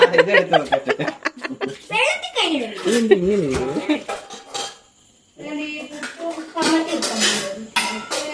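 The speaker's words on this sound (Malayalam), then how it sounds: "പാത്രം കഴുകാനും എടുത്തു വെക്കാനും" Dishes and cutlery clatter and clink intermittently as people talk and laugh nearby.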